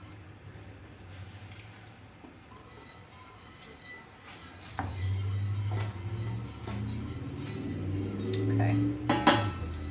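A whisk stirs polenta in a metal pot, with rhythmic clinking and scraping that grows louder and busier partway through; a voice briefly speaks.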